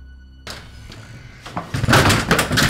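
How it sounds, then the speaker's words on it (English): A door being opened indoors, a thump and rattle of the door followed by louder shuffling movement, with brief voices nearby. "Now open the door."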